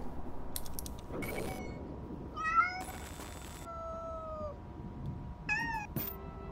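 A kitten in the video game Amanda the Adventurer gives several short, clear meows, some rising and some drawn out. Mechanical clicks and creaking gear-like sounds come in between them at close range.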